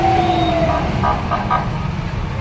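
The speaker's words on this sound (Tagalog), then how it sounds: "So, ito, ambulance." An ambulance siren wails loud and close on a roadside, its tone sliding downward as it passes, over steady traffic rumble.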